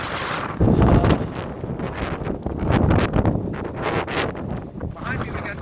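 Strong wind buffets the microphone in loud, roaring gusts that rise and fall throughout.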